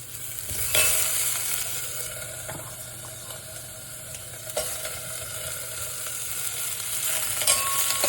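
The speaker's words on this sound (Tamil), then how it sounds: "கொஞ்சம் லேசாக வதங்கினா போதும்." Onions are sautéed lightly in a pan for sambar, a steady close sizzle with occasional stirring scrapes and clinks, no talking.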